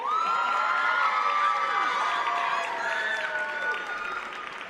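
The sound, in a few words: applause and cheering from audience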